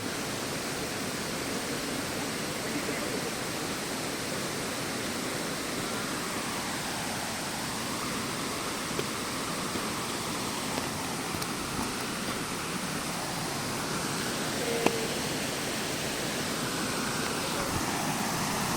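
Muddy water, swollen by rain, rushing steadily down from the mountain in a loud, constant roar that holds unbroken from start to finish.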